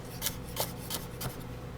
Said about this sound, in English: you cut it in strips like this